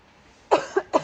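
Three short, close coughs from a person with a cold, sore throat and runny nose, coming in quick succession after a near-silent moment.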